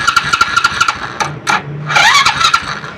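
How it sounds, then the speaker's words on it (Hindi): A motorcycle's electric self-starter cranks the engine with its magneto cover removed during a repair. The starter motor whirs in rapid, loud, chattering pulses, pauses briefly, then cranks again, close to the listener. "अब जो है सेल्फ दबा के चेक करेंगे इसकी"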